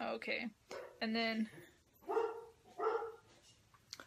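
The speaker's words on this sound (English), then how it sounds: "sorry about the dogs barking." Several sharp dog barks ring out at intervals, mixed with a person talking nearby; the barks are fairly loud and close.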